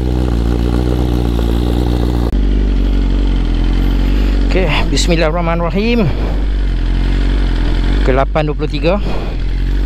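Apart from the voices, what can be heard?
Ducati V4S motorcycle engine running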